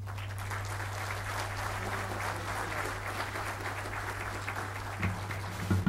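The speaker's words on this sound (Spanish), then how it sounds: "lo recibimos con un fuerte aplauso" Steady clapping from an audience at a welders' conference, welcoming a guest engineer to the stage. The sound is moderately quiet over a low electrical hum, with a few louder claps near the end.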